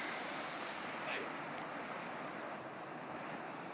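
A river runs below a cabin at Belknap Springs, a steady broadband rushing wash heard from a distance at low level, continuous throughout with faint wind-like noise.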